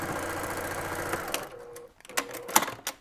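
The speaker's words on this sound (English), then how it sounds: "I'm just going to sew on through." A sewing machine runs steadily, stitching through fabric for a tool pouch, in a continuous mechanical whir for just over a second before stopping, followed by scattered handling clicks and taps.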